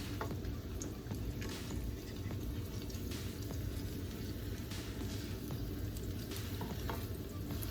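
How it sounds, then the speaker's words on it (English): Birria tacos fry in a hot pan with a steady, soft sizzle. Occasional faint crackles and spatters rise from the oil as the tacos crisp, close by and without talking. "we just want to cook them on both sides until they get a little bit crispy."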